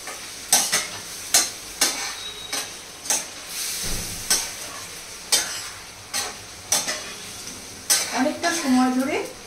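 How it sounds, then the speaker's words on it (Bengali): Chicken curry being stir-fried (kosha) in a pan: a spatula scrapes and clatters against the pan in regular strokes over a background sizzle, near and fairly loud, with a brief voice toward the end. "দিয়ে এটাকে অনেকক্ষণ ধরে কষবো।"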